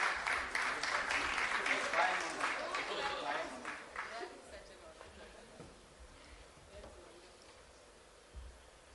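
Crowd applause at a literature event starts fairly loud, then fades steadily over several seconds into quiet room noise, with a faint, distant quality throughout.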